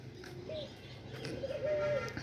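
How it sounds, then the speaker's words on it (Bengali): Doves in a park coo softly a few times against faint background hum and distant sounds, with no one talking nearby. "ঘুঘু দেখতে পাচ্ছেন, অনেকগুলো ঘুঘু রয়েছে।"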